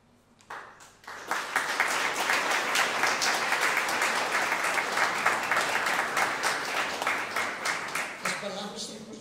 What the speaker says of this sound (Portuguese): As palmas são para o João de Deus, não são para mim.